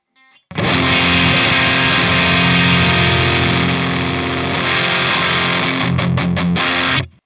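Electric guitar played through a Synergy Diezel preamp module on the red channel with the gain rolled down, a dense, loud, sustained distorted chord ringing for several seconds, then a few quick choppy strums before it cuts off.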